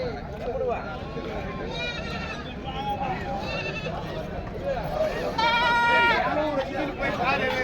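Goats bleat repeatedly at the Kambainallur goat market, several wavering calls overlapping nearby amid constant crowd chatter and people talking.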